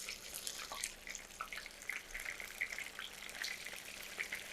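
Raw chicken wings fry in oil over low heat, giving a faint, steady crackle and bubbling hiss with scattered small pops throughout.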